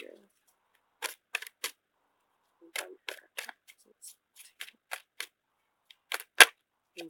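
Tarot cards being shuffled in short bursts, crisp riffles and flicks separated by near silence, close and clear.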